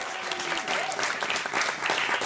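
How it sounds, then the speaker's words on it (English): An audience at a live dating game show claps for a welcomed guest, a steady wash of applause filling the whole moment. "Give him a round of applause."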